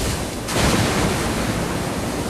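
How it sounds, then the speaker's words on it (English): Twin water streams blast from the restored pump and pressure divider of a giant wildfire-fighting machine at a forestry training zone, a loud, steady broadband rush that surges up after half a second and holds without voices. "Twin water streams confirm that the restored pump and pressure divider are working together."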